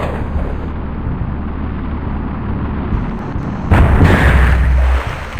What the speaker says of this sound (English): Let's fire off the riot bomb instead.